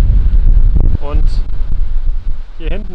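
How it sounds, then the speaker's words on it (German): Strong wind buffets the microphone on an Albanian coast near Vlora, a heavy continuous low roar with gusts, while people speak briefly over it. "Es ist nur extrem windig"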